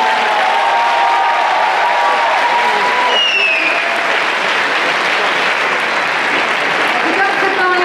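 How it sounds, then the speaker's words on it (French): Loud, steady applause from a crowd at a cosplay contest, greeting a Sword Art cosplay group, with a few whistles or cheers rising briefly partway through and some voices mixed in. "On les applaudit bien fort le groupe Sword Art."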